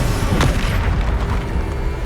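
Bombarda blasting spell cast in the Hogwarts Legacy video game, a booming explosion with a sharp burst early on and then a dense, rumbling low roar that stays loud through the whole clip.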